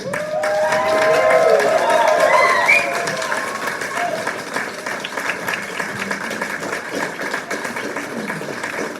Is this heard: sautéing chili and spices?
no